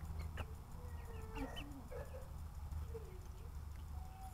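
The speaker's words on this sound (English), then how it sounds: "The chickens are roaming!" Soft, scattered clucks from a few chickens over a low background hum, faint and close by.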